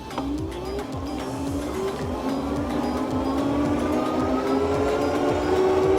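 A VTUVIA SX20 Antelope electric bike climbs an uphill incline on throttle, its motor whine rising steadily in pitch as it gains speed, over a rapid rhythmic thumping and rolling road noise, close and continuous.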